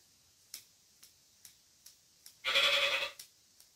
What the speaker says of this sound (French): Voilà, c'est mon téléphone, c'est des messages.